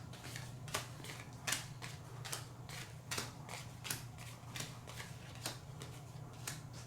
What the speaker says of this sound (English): This actually provides a nice way to get some more shuffle out of the cards if you lay them down sort of randomly into these 4 stacks.